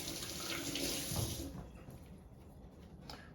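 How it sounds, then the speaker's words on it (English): Water from a running kitchen tap splashes over hands being rinsed, a steady close rush that cuts off about halfway through, leaving faint drips and room noise. "I'll rinse my hands real quick."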